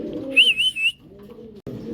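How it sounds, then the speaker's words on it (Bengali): A blue Bermudian male pigeon gives a short, soft coo close by, a brief throaty call rising over a low background murmur. "ব্লু বারমুন্ডিয়ান একটা ফুল অ্যাক্টিভ নর কবুতর, অনেক সুন্দর এবং চমৎকার একটা নর।"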